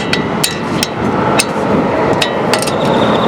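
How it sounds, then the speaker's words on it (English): A ratchet or impact work on the wheel hub of a 2018 Ram 1500 Tradesman 3.6, giving sharp metallic clacks at irregular intervals over steady background noise, close and fairly loud. "Now I can put this ratchet."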